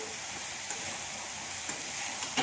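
Fish pieces rubbed with salt frying in a pan, giving a dense, continuous close hiss of hot oil with a few faint stir scrapes and no speech.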